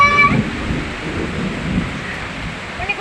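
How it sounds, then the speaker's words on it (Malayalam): Heavy monsoon rain and gusting wind in a Kerala village roar as a dense, steady wash, fairly loud and close, with no speech. "കാറ്റടിക്കുന്നുണ്ട്. നല്ല മഴയാണ് കേട്ടോ."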